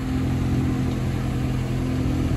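Historic rally cars, Porsche and Citroën, sit with engines running at a rally start control, a steady close idling rumble with slight revs and no voices.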